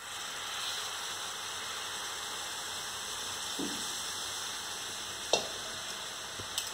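Quiet stirring of water chestnut flour cooked with sugar syrup in a pan, a soft steady sizzle with a few faint scrapes and taps of the spoon.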